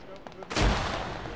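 In the video game Arma 3, a single loud hand-grenade blast booms and rumbles away after a few faint sounds, near and heavy, with no talk over it.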